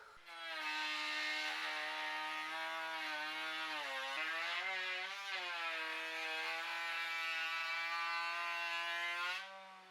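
A Dewalt 2 1/4 HP router cutting through oak, a loud sustained high-pitched whine with rich overtones that dips briefly in pitch under load, then spins back up steadily before stopping.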